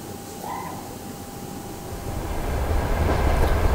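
Indian Railways freight train with a guard's caboose, marked Southern Railways, in Trainz Simulator 12, rumbling steadily and growing louder toward the end, with a brief tonal whistle-like blip early on.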